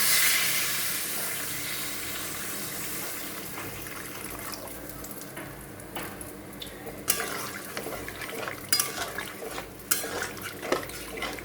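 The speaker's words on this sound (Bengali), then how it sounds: "আমি জল দিয়ে দেবো" Water pouring into a pan of Bengali katla fish curry, a steady rushing wash at first that settles into a softer trickle with a few clinks of utensils toward the end, close and moderately loud.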